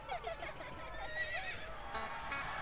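A horse whinnies in a long, wavering neigh that rises and falls, mixed into dense wrestler entrance music in WWE 2K26.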